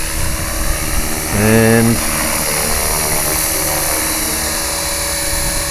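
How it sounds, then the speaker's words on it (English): EXI450 RC helicopter flying overhead in stunt mode near a road by houses, a steady whining rotor and motor drone running throughout with a brief louder pass in the middle, a voice speaking faintly over it. "The poor old neighbours have to put up with my helicopters coming and going all day"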